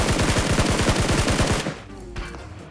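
Rapid automatic gunfire in a PUBG-style battle royale game at Pochinki, dense loud bursts for about a second and a half before cutting off into quieter game ambience.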